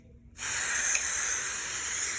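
Spray adhesive hissing steadily from an aerosol can onto a Honda Ballade car headliner, starting abruptly and then continuing as one close, even spray.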